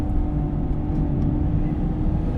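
Modified Mitsubishi Evolution X MR engine revving hard on an open road, heard from inside the car as a steady, loud low rumble with no talking.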